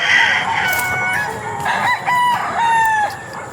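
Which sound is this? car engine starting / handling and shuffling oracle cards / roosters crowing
roosters crowing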